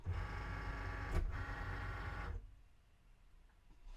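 A Cricut Maker cutting machine whirs steadily as it pulls in the cutting mat, a close mechanical motor hum lasting about two seconds with a brief knock midway, then stopping abruptly into quiet room tone.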